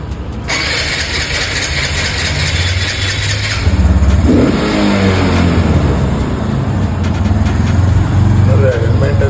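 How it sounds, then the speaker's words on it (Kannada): A vehicle engine cranks over with its electric self-starter, catches and settles into a loud running idle, then revs up and holds a steady roar close to the microphone, with no talking. "ಒಂದು ಸೆಲ್ಫಲ್ಲಿ ಹೆಂಗೆ ಸ್ಟಾರ್ಟ್ ಆಗುತ್ತೆ ಅಂತ"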